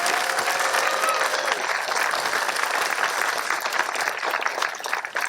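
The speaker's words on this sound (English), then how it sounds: "give them one more big round of applause for that" Steady, dense applause from a crowd at a Memorial Day ceremony in Walnut Creek, a continuous wash of many hands clapping at even loudness for about five seconds, tapering slightly at the end.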